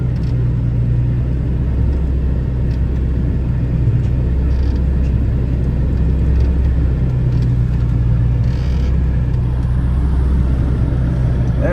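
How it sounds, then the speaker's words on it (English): Steady, loud low engine rumble of a potato harvester working through the field on the final day of harvest, heard continuously from a nearby vehicle cab with no talk. "you can see the harvester going."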